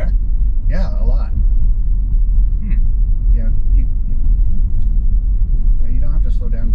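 Steady low road rumble from a Tesla Model X Plaid being driven hard without slowing, the cabin drone constant throughout while people talk briefly inside.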